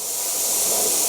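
An airbrush spraying black and grey paint over a skull stencil, giving a steady, even hiss of air and paint that holds unbroken at moderate loudness from close by.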